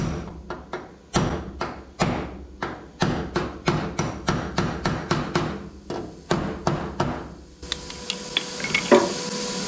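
Steady hand hammering on sheet metal on a Datsun: a long run of sharp, ringing metallic blows at an even, fairly quick rhythm, close and loud, with a brief scraping, rustling stretch near the end.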